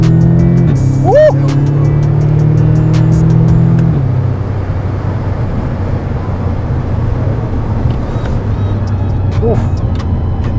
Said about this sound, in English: I'm gonna switch the car to manual, so you change the gears now.